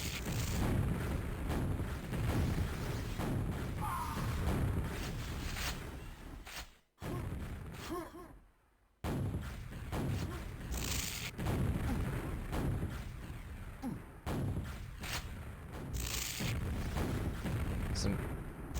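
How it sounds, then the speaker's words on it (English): Rockets traded back and forth in a QuakeWorld deathmatch, a near-constant run of dense blasts and booms with a brief drop to near silence partway through, sounding under a commentator's voice. "Some rockets being traded back and forth"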